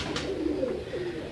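A kamgar pigeon gives a soft, low rolling coo, a brief close call repeated in a couple of gentle pulses.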